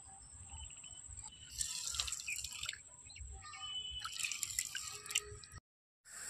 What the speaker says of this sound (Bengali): এখানে কিছুটা জল অ্যাড করব।